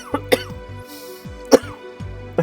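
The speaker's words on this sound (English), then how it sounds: "I did the fake coughing so much I accidentally real coughed" A person coughs in short sharp bursts, three or four quick hacks spread over a couple of seconds, close and fairly loud, between brief tonal blips.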